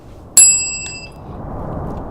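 One bright metallic bell strike rings out sharply with a lingering, clear tone, followed by a faint second tap, set against a quiet background hum.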